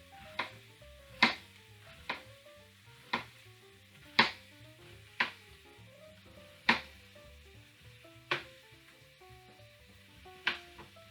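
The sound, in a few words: knife thinly slicing sweet onion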